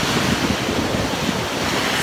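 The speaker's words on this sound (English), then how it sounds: "The waves are a little intense." Ocean waves crash against the rocky shoreline of a Kauai beach, a loud, continuous rolling surf with steady roar and wind buffeting the microphone, no voices.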